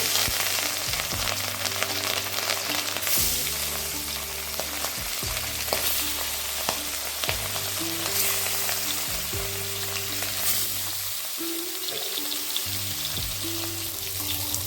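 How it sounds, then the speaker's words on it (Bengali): Rohu fish pieces rubbed with salt and turmeric fry in hot oil in a kadai for a Bengali fish curry, a loud, close, continuous sizzle with crackling pops throughout. "তেলটা গরম হয়ে এলে এবার আমি মাছগুলোকে ভেজে নেবো"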